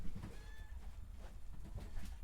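A cat meows in a room, one faint drawn-out meow with a rising and falling pitch over low background noise, with no one speaking.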